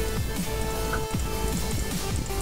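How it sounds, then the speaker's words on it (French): Steady Minecraft rain patters across the whole stretch, a continuous hiss of drops on surfaces in the blocky game world, with faint game sounds mixed underneath and no talking. "Oh la pluie qui fait du bien!"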